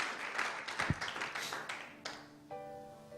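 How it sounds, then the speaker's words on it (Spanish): A church congregation bursts into scattered applause, claps and taps rising and then fading over a few seconds, before a sustained musical tone enters near the end. "Denle un aplauso al Señor para que me hagan sentir de que estoy vivo."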